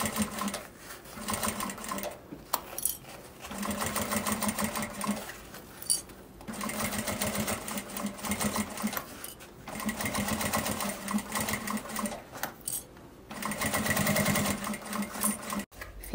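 A sewing machine stitches bias binding onto a small fabric car trash bag, its motor whirring in long steady runs broken by brief pauses, close and fairly loud with no talking.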